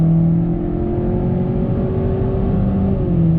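Steady, loud engine drone of a 2019 Honda Accord Sport with its 1.5-liter turbo under throttle, heard from inside the car, with the pitch rising smoothly and continuous road rumble beneath, no talking.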